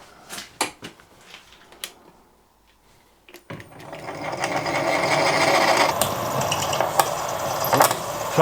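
A milling machine drills through an engine part for a Mercury outboard repair. A few sharp mechanical clicks and knocks come first, then a loud sustained grinding whine of the cut that runs steadily to the end. No one speaks.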